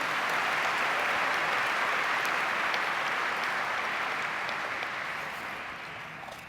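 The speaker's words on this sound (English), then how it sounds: "Round of applause for all of our winners." An audience claps for award winners at an annual meeting's keynote and awards program, a smooth, sustained wash of applause from a large hall that slowly fades over the last seconds.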